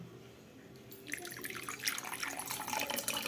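Cold water is poured in an evening kitchen, a brief splashing, trickling stream that rises in the second half and stays fairly close and moderately loud, with no talking.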